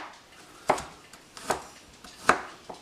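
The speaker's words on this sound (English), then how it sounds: "And then once I have it all sliced, then I chop it." Freshly sliced garlic being chopped with a knife on a cutting board for pico de gallo: three firm, evenly spaced chops with faint lighter taps between them, close and clear, no talking.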